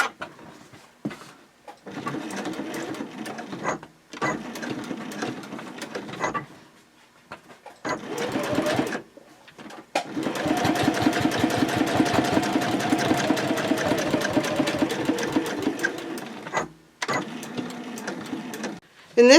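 A sewing machine top stitches a fabric sling in several bursts of rapid mechanical whirring, the longest run lasting several seconds, close and clear, with pauses between runs.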